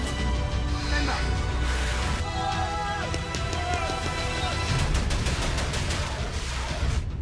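Gunshots in a TV programme crackle as a rapid run of shots near the end, under continuous soundtrack noise and voices.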